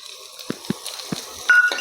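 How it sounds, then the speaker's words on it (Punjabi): Cumin seeds and finely chopped onion roasting in a pan, with a steady soft sizzle and a few sharp spatula taps against the pan, close and fairly loud, no talking. "ਜੀਰੇ ਨੂੰ ਵੀ ਆਪਾਂ ਹੁਣ ਭੁੰਨ ਲਾਂਗੇ"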